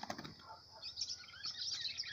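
A red-cowled cardinal (galo de campina) flaps its wings in a quick burst as it is released by hand, followed by light chirping and rustling, close and moderately loud.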